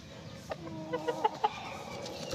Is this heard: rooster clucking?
yes